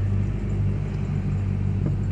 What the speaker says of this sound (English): So we'll go back to reverse and see what it does for backing down the hill.